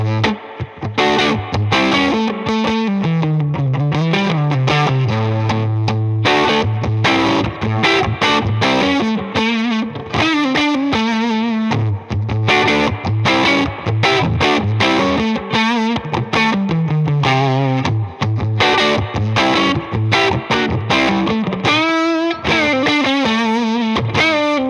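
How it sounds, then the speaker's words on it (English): A Gretsch G6228 Players Edition Jet electric guitar, played on the neck pickup through a Benson Monarch Reverb amp with volume near 8, gives a dirty, distorted tone in a dense run of chords and single-note lines. "For some dirty sounds, we will be running through a Benson Amps Monarch Reverb, volume sitting somewhere around 8."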